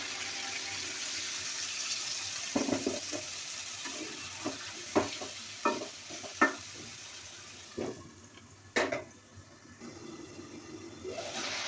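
Small fish cooking down in oil with a splash of added water, a soft sizzle broken by sharp scrapes and knocks of stirring, fairly quiet and close.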